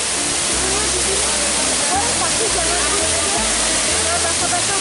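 Curug Muara Jaya, a waterfall in Majalengka, roars as a loud, steady wash of falling water up close, with someone speaking over it.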